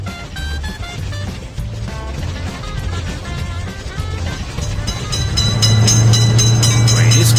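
A cartoon-style train rolls past in a children's level-crossing game, its steady rumble building louder toward the end with a sustained horn-like tone, set against a busy game soundtrack.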